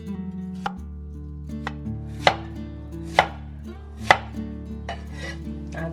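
A knife chops peeled sweet potatoes into chunks on a cutting board, giving about half a dozen sharp, separate knocks at an uneven pace. The chops are close, with soft music playing underneath.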